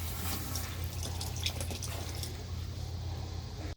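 Several gallons of water pour steadily into a five-gallon swamp bucket for a seafood boil, a close, continuous splashing rush that stops abruptly at the end, with no talking.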